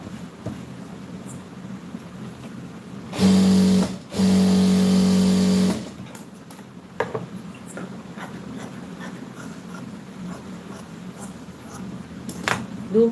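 A sewing machine stitching a skirt runs in two short loud bursts of steady whirring, separated by a brief pause, then stops, leaving quiet room noise with small handling clicks.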